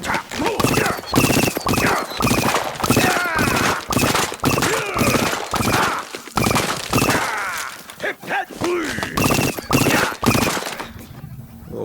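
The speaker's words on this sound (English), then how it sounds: "It's got a little intermittent triple shot mechanic." Corn weapon in Plants vs. Zombies Garden Warfare 2 firing in rapid, loud, close popping bursts, clustered shots repeating with brief gaps, plus some thumps and tonal effects mixed in.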